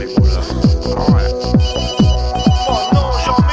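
A telephone rings insistently at a club: a loud electronic tone pulses about twice a second in a steady, unbroken run, with faint voices behind it.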